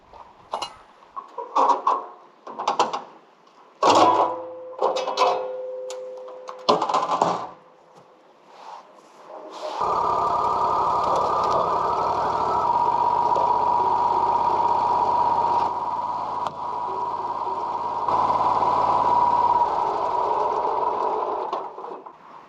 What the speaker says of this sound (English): Today, we're finally getting the sawmill up and running.